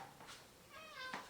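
A cat meows indoors in a short, clear call, a brief wavering cry rising near the end, fairly close with soft room noise behind it.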